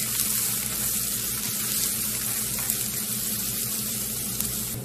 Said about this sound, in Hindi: प्याज को हम अच्छे से फ्राई कर लेंगे।